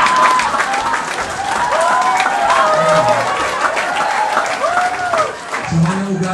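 An audience claps steadily through the whole stretch while someone speaks over the applause, with crowd noise underneath and a brief dip in volume near the end.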